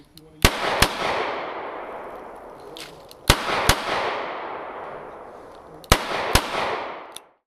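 A Smith & Wesson 686 Performance Center .357 revolver fires .38 Special rounds: three quick pairs of sharp, loud shots, each followed by a reverberant decaying tail.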